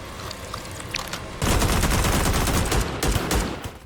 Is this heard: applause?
no